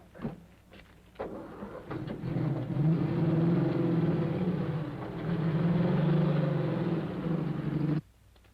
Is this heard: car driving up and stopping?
yes